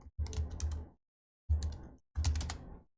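Three short bursts of clicking come from a computer keyboard, typed close by during a Visual Studio Code lesson, with silent gaps between them.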